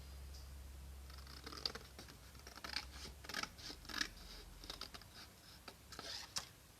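Large scissors snip through paper for a pop-up card, a series of crisp close cutting clicks and rustles in irregular bursts, with faint background hum.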